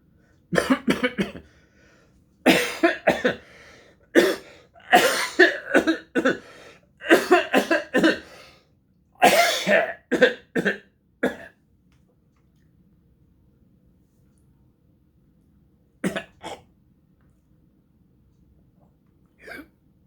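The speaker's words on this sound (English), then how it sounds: "How long have you had that cough?" Several bursts of coughing, some harsh and clustered, separated by pauses, then a few isolated coughs later on; close and fairly loud.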